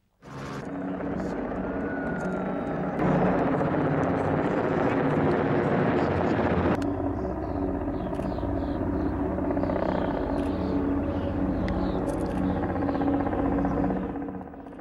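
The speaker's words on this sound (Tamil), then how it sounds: "அனைத்து ஹெலிகாப்டர்களும் வானில் ஒரு சேர பறந்தபடி டைமண்ட் வடிவத்தை ஏற்படுத்தி பார்வையாளர்களை பிரமிப்பில் ஆழ்த்தின" Twenty-five helicopters fly together in a diamond formation during a world-record display in Russia, a loud continuous rotor drone that swells as the formation passes overhead.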